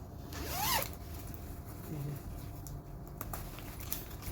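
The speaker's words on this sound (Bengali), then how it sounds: "আর এটা যদি জিপারটা খুলি আমি" The zipper of a men's padded winter jacket rated to -20° is pulled open, giving one quick rasping zip close up, followed by faint handling and rustling of the fabric.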